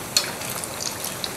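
Onions fry in oil in a pan over a low flame, giving a dense, even sizzle with a few tiny pops and clicks, close up and uninterrupted by voices.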